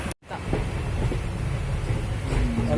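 Passenger train running on rails, a steady close rumbling roar with faint rhythmic clatter that continues throughout, with a rising whine near the end.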